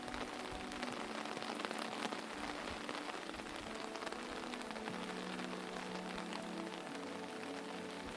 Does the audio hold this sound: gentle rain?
yes